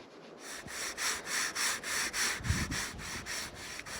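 Rhythmic back-and-forth sanding strokes on a wooden walking stick, about eight even passes, close and fairly quiet, with no voices.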